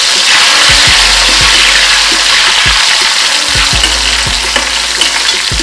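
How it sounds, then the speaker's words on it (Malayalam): Raisins fry in oil left from cashews for chicken biryani, producing a loud, even sizzle and hiss. Irregular spoon taps and stirring scrapes repeat throughout, with no voices. "മുന്തിരിയും കൂടെ വറുത്തെടുക്കുക."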